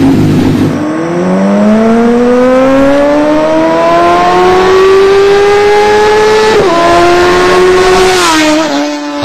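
Motorbike engine of a bikers gang racing on Delhi streets at night, one loud close machine revving in a long rising whine that climbs steadily in pitch before a sharp drop as it roars past.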